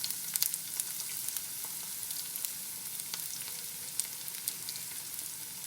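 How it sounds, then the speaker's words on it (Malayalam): Small onions and curry leaves fry in hot oil for a prawn and mango curry, giving a steady close sizzle dotted with sharp crackles and pops, with no voices. "ഈ കറിവേപ്പില കൂടെ ചേർത്തിട്ട് ഉള്ളി നന്നായിട്ട് മൂത്ത് വരണം."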